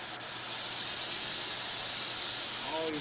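An air duster sprays dust off PC parts in PC Building Simulator, a loud steady hiss of compressed air lasting about three seconds, with a brief voice near the end.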